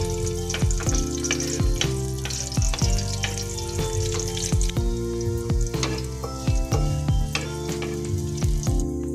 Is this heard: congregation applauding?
no